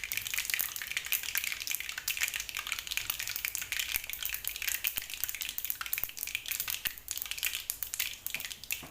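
Spices sizzle and crackle in hot oil for a mango pickle, a dense, steady hiss with fine popping throughout and no voices.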